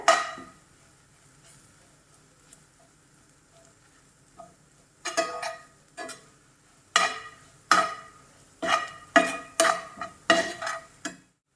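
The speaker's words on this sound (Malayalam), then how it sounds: "ഈ പൊടികളൊക്കെ ഇത് മൂക്കട്ടെ" Kashmiri chili powder and garam masala roast in a pan for a home-style Kerala egg roast, heard as a quiet stretch followed by a run of close, sharp scraping and stirring strokes against the pan, with no talking.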